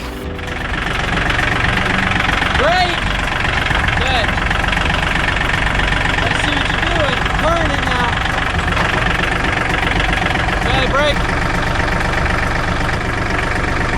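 A tractor engine idles loudly and close by with a steady knocking rumble that continues throughout.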